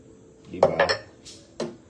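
Dishes and cutlery knocking and clinking during washing up, a few quick clatters close by with a brief pause before one more clink, no talking.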